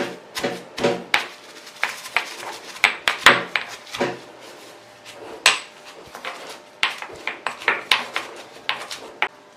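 A handful of henna leaves pounded in a mortar, giving a close series of sharp, irregular knocks and thuds, some in quick pairs, with scraping between strikes and no talking.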